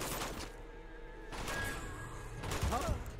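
Gunfire in the action game Uncharted 2 during a fight in a village: bursts of shots and impacts crackle in clusters, with heavier hits toward the end.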